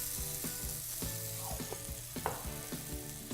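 Garlic and shallot frying in olive oil with a steady, close sizzle, broken by scattered clicks and soft scrapes of stirring; no voices.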